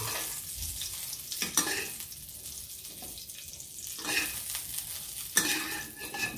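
Hotdogs frying in oil in a pan for a home breakfast, giving a steady close sizzle with occasional louder crackles and spatula scrapes as they are turned and lifted out.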